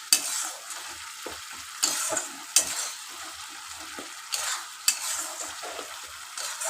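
A spice paste sizzles steadily in a pan for a chicken dish cooked with five-spice, punctuated by several sharp scraping stirs of a spoon against the pan, close and clear with no voices.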